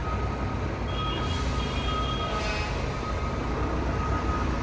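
Freight train loaded with truck frames rolling past, a steady rumbling roar with faint metallic squeals and ringing tones, heard from a moving vehicle at night with no talking.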